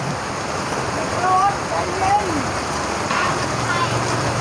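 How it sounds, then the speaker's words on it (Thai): Heavy rain pours down at an outdoor market, a steady broadband hiss of falling water that fills the scene, with people's voices faintly mixed in beneath the downpour. "จากที่ว่า ฝนยังไม่ตก นี่ที่ไหนได้ ตก ตกอย่างแรง"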